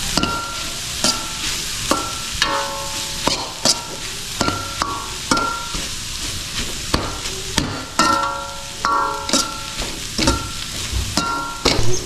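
Cooked rice is stirred and fried in a pan, a rhythmic series of scraping clacks from a spoon against the pan over a continuous sizzle, close and fairly loud, with no voices.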